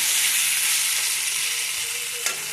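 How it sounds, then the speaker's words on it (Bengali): Potatoes frying in oil with garlic, green chilli and tomato, a loud dense sizzle holding steady throughout with a faint clink near the end, close to the pan. "তেলটা ছাড়ার পরে যে আলু দিয়ে ভালো করে ভাজাভুজি করে নিচ্ছি"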